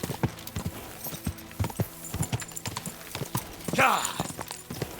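Hooves clip-clop in a steady trotting rhythm, with a brief horse whinny near the end; the sound is clean and game-like, from the video game Kingdom Come: Deliverance II.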